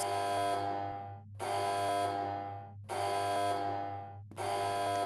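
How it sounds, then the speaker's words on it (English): An alarm buzzer in a Roblox game blares in four loud, harsh bursts of about a second each, separated by short gaps, over a steady low hum. "just to set the mood before we turn on the primary fusion coil, I'll demonstrate the alarms"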